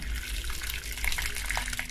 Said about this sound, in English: Next, I'm going to be adding some hot water